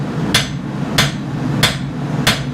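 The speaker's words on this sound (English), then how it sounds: "Swing that hammer, buddy." A blacksmith's hammer strikes hot steel while forging a blade, four sharp, evenly spaced metallic blows about two-thirds of a second apart, close and loud over a low background hum.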